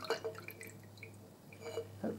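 Discoloured turpentine is tipped off the top of a jar of dirty oil-paint residue, faint close-up drips and little liquid splashes in an irregular patter.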